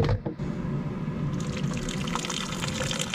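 Steady rushing of hot water pouring, continuous and fairly close, with a brief quieter moment at the start.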